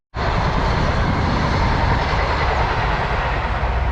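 A train roars through Caldicot station on the South Wales main line, bursting in suddenly and staying loud and close as a dense, steady rush of wheel and carriage noise.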